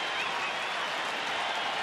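Crowd at a Texas Rangers home game against Oakland in September 2012 applauding and cheering, a dense, steady wash of clapping and voices spread across the stadium, continuous and fairly even throughout.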